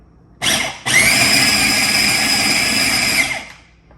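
A food processor pulses a batch of Sephardic-Turkish haroset in two loud, close bursts, a brief whir, a short pause, then a steady grinding run of about three seconds with a high motor whine that tapers off.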